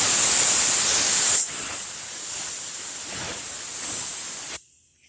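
A spray can or gun lays a primer coat over a body filler spot on a Chevelle in a garage, a loud close hiss in short bursts with a pause before falling silent.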